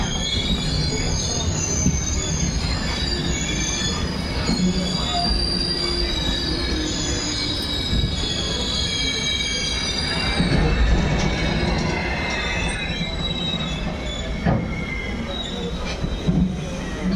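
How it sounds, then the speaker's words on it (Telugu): The Godavari Express pulls into a railway station and stops. Its wheels squeal loudly and continuously against the rails, with a steady rumble of the train underneath. "ఇక్కడ ఏదో రైల్వే స్టేషన్ వచ్చింది, ఆగిందనమాట. ఇది గోదావరి ఎక్స్ప్రెస్ అనమాట."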